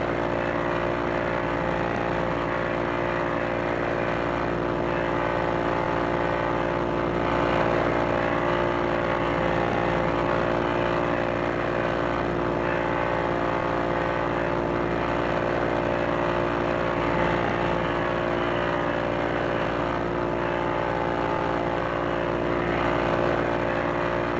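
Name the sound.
P-40E Warhawk propeller engine in a VR flight video game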